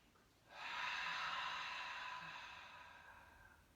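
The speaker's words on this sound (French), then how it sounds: "J'inspire et j'expire." A single slow, steady breath drawn in and let out during gentle floor yoga, soft and close, swelling quickly then fading gradually over a few seconds with no talk.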